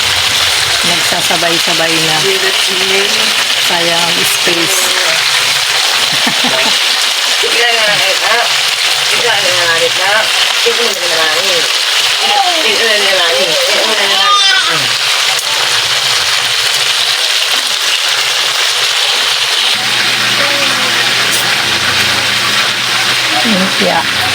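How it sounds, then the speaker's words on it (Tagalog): Lumpia and fried chicken crackle side by side in a shared pan of oil, a steady loud sizzle running throughout beneath scattered clinks and voices talking over it. "nilalagyan na rin ng lumpia katabi na ng fried chicken para tipid sa mantika"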